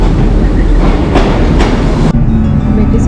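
A train at Bangor station in North Wales rumbles loudly and close by, with rhythmic clattering over the rails and a couple of sharp metallic bursts. The roar drops away abruptly near the end, leaving a lower steady hum.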